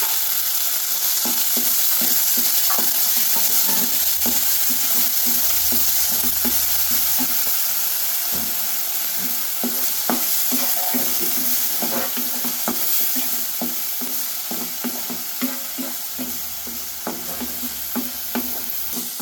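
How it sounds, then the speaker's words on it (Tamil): Ground onion paste fries and sizzles in a pan while a spoon stirs it in steady, repeated scrapes, with a continuous hiss underneath throughout. "அரைச்சி வச்ச வெங்காயமும் நல்லா வதங்கிடுச்சு"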